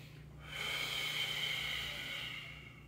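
One long, steady breath pushed out through the mouth during a mini squat, a soft airy hiss lasting a couple of seconds, close to the microphone, with no speech.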